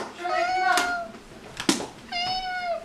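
A person imitates a cat's meow with the throat, giving two drawn-out, tonal meow-like cries separated by a short sharp noise, close and fairly loud, with a faint voice under them.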